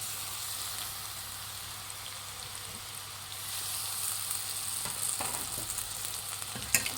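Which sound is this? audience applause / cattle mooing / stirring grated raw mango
stirring grated raw mango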